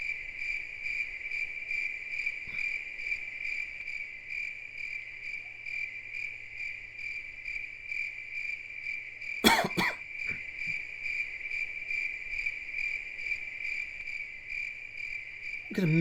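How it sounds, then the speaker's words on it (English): Crickets chirp loudly in the game Lunar 2: Eternal Blue, a continuous high, steady trill running throughout, with a brief cough-like burst partway through. "The loudest crickets ever."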